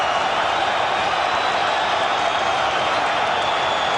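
Boxing arena crowd at a George Foreman versus Evander Holyfield fight, a dense, steady roar of many voices filling the hall between rounds, loud and unbroken for the whole stretch.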